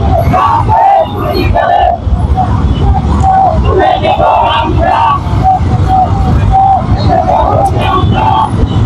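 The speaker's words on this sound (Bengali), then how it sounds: "সামনের গাড়ি থেকে স্লোগান দিচ্ছে" Protest march toward Suhrawardy Udyan for Gaza, with loud crowd chanting and yelled slogans from a vehicle ahead, rising over constant street noise and engine rumble throughout.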